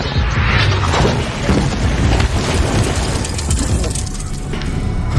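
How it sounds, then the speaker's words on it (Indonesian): Loud, dense bursts from a Black Mamba toy pistol's gunshot sound effect, a continuous crackling, booming barrage running the whole stretch without pause. "tembakan pistol Black Mamba"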